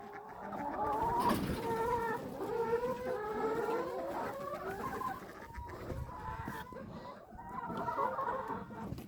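A flock of chickens clucks and murmurs continuously nearby, overlapping calls rising and falling with no one speaking.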